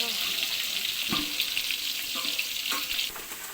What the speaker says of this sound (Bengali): এখন এখানে পেঁয়াজ ভাজা হয়ে গেছে।